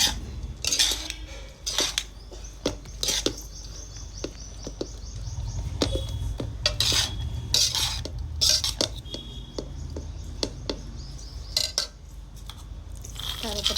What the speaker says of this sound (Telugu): ఒకసారి రైస్లో కలిపేసుకోవాలి